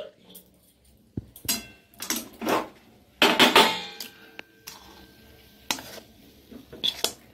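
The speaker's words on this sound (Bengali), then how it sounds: "একটা থালা নিয়েছি, কিছুটা ঘি মাখিয়ে দিচ্ছি, এই থালাতে আমি ঢেলে নিচ্ছি।" Sweet chickpea dal dough is scraped from a hot pan onto a ghee-greased plate, with irregular metallic clanks and scrapes of pan and spoon against the plate, loud bursts separated by short quiet gaps.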